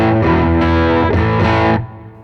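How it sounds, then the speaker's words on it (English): An electric guitar runs through a Formula 5/6 pedal into a cranked Bassman-style amp tone, giving a loud, thick overdriven chord ring with a few restrikes before it cuts off near the end. "So kind of a bassman cranked up a bit sound"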